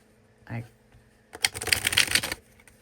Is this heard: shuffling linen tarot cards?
yes